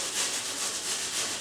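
Crispy golden roasted potatoes are scraped across a pan, giving a steady close rasping scrape that runs unbroken, with no voices over it.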